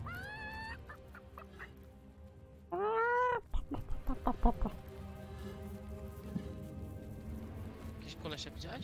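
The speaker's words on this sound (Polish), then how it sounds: "jakiś dźwięk był. Jakby kura." A chicken clucks in the video game Divinity: Original Sin Enhanced Edition, giving a short run of quick clucks amid other game sounds and voices.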